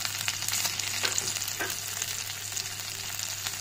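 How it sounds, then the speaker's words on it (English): Chopped onions and cumin seeds frying in butter in a pan for butter chicken, a steady close sizzle with faint crackles and a couple of soft stirring knocks, no talk. "After frying onions, ginger garlic paste and cumin seeds, let them cool"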